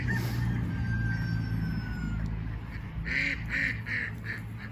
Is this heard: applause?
no